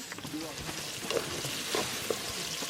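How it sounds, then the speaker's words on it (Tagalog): Chicken curry sizzles and fries in a pan outdoors on a trip up Mt Kalatungan, a steady close hiss with a few stirring knocks, wind rumbling lightly underneath. "This is how you cook chicken curry."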